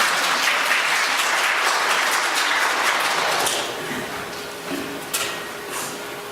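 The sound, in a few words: applause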